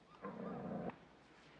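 A dog gives a short, faint whine close by, a brief low whimper followed by a quick rough burst, with no talking over it.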